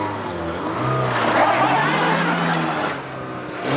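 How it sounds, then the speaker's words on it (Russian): A car engine churns and revs in thick mud, rising to a strained roar midway and then easing off, with voices talking over it. "Так, Рустам, заводи мотор, заводи."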